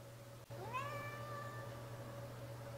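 A cat meows once, a clear rising-then-falling cry close to the microphone, held for about two seconds over a steady low indoor hum.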